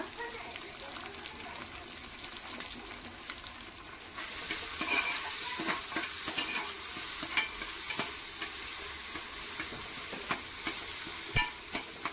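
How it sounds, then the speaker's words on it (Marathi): Sliced onion frying and being stirred in oil with bay leaf, a steady close sizzle with clicking spatula scrapes that grows louder after the first few seconds. "कांदा उभा चिरून घ्यायचा आहे आणि तो तेलात लाल होईपर्यंत परतून घ्यायचा आहे"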